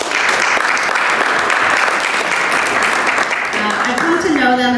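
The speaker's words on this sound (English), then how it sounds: "Can we get a round of applause for the OCI team?" Audience applause for the OCI team at the Ohio City Inc candidates night, dense continuous clapping filling the room, with a voice starting to speak near the end.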